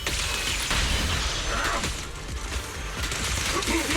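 Rapid gunfire in the Zenless Zone Zero video game, a loud unbroken barrage of shots with mechanical clatter filling the whole moment.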